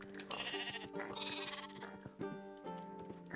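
Sheep in the block-building survival game TerraFirmaCraft bleat a few times over a busy bed of steady game music and ambient tones, the calls moderately close and partly blended into the mix.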